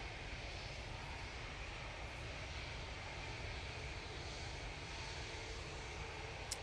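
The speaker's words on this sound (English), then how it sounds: "And there's Jet 2 321neo." A Jet2 Airbus A321neo airliner at Manchester Airport, a steady broad engine roar holding at even loudness throughout, no voices present.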